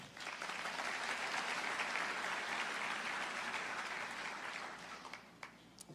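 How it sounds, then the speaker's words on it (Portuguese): A church congregation breaks into sustained applause, dense and steady clapping filling the room for several seconds before tapering off near the end. "Aplauda o Senhor."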